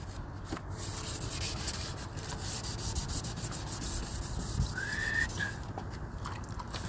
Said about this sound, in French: Et là je le ponce à l'eau directement.